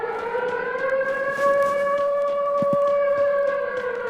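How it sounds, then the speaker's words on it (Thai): A long, wavering howl in the Free Fire video game, several steady rising-and-falling tones held together like a siren or dog howl, loud and continuous throughout with a brief low thump near the end. "เสียงหมาหอน"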